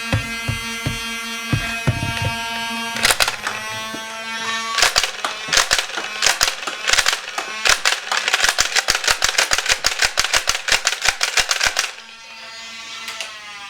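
Nerf Stockade blaster firing Elite darts, heard as a long run of sharp mechanical clacks, close and loud, with a steady motor hum underneath. The clacks come sparse at first, then quick and rhythmic before stopping abruptly.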